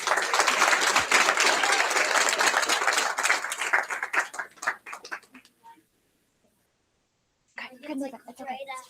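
Audience applause for students at a school board meeting, a dense burst of clapping that thins and fades to near silence, followed by a short spell of talking.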